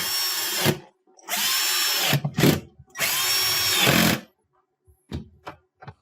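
Power drill driving white-headed screws back into a GE refrigerator freezer panel: two long whirring runs and several short bursts, close and loud, separated by brief silences.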